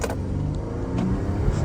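Audi Q7 fitted with a custom intake launching on a residential street, a loud close engine roar sustained and building through the short burst.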